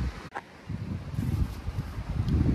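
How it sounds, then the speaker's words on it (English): Gusty wind buffets a pinned, half-sewn polyester tent windbreaker wall, a close, steady rumbling rush with rising and falling surges. "You can see the wind blowing up against this thing."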